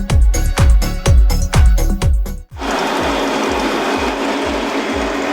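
An electric mixer whips a meringue-style mixture as egg yolks go in, opening with a run of rhythmic mechanical thumps, then settling into a steady, loud, even whir close by with a faint repeating pulse.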